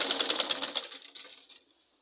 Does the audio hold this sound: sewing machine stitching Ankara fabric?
yes